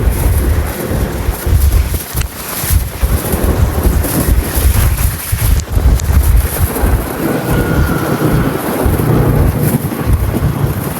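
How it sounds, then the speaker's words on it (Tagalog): Strong seaside wind roars and buffets the phone microphone continuously, a loud low rumble with gusty surges throughout. "Kahit sobrang lakas ang hangin."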